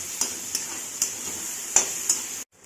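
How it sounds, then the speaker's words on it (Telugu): Scrambled egg is stirred in a pan over a low flame, a constant gentle sizzle broken by five light spatula taps against the pan before it cuts off. "స్టవ్ సిమ్లో పెట్టుకొని కలుపుకుందాం"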